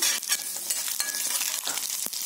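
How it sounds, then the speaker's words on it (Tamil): Dried red chillies frying with urad dal and chana dal in hot oil for lemon rice, a steady close sizzle with stirring scrapes and occasional pops, no talk. "நல்லா உளுந்தும் கடலைப்பருப்பு நல்லா செவந்துருச்சு இப்ப காஞ்ச மிளகாய் போட்டுக்கலாம்"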